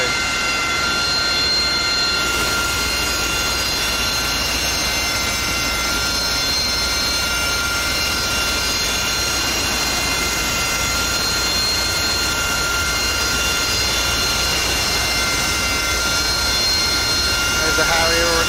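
A Harrier jet engine in the DCS World flight simulator produces a loud, steady roar with a high whine. It holds unchanged throughout, with faint talk underneath.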